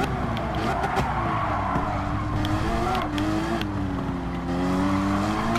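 Race car braking hard in Gran Turismo 7 Sport Mode, a steady loud engine drone with shifting pitch and a tire skid squeal running through, continuous and close throughout.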